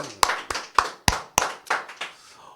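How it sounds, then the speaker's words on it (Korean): A church congregation at an Easter worship service claps. There are about eight sharp, separate hand claps in a slow, even rhythm, each with a short reverberant tail, loud and close, with no talking over them. "우리 부활의 주님께 박수로 영광 올려드립시다"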